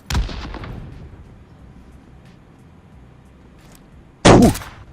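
Two heavy blasts of bombing in a battle royale video game, one at the very start and another loud, close burst near the end, with a long fading rumble between them and no talking.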